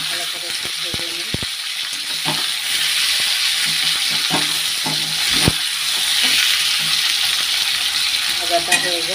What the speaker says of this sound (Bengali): হলুদ দিয়ে ভেজে নেবো, নুন জল দেবো, ভালো করে একটু ভেজে নিই